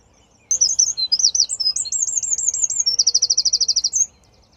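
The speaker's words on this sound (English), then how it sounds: "I guess that's the tree where all the birds are waking me up" Several birds chirp and warble in a tree in the morning at an Irish national park campsite, a clear close song of rapid trills and repeated whistled notes running about three and a half seconds, then stopping.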